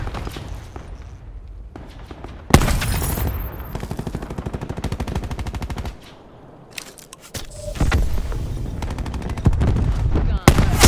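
Gunfire in Call of Duty: Black Ops 4, with loud sustained automatic bursts and scattered single shots, broken by a brief lull before the heavy firing resumes.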